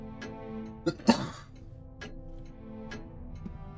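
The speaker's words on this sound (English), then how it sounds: "I really wish I would stop coughing" A couple of sharp coughs sound close by, with a faint throat-clearing and soft ticking in an otherwise quiet room.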